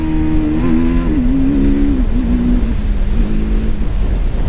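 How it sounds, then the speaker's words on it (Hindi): A TVS Apache RTR 310 motorcycle shifts through its gears with a quick shifter, its loud engine drone stepping abruptly in pitch several times in quick succession as it pulls up through the gears, with no pauses. "गियर बॉक्स में ये जो क्विक शिफ्टर है बहुत बढ़िया तरीके से काम कर रहा"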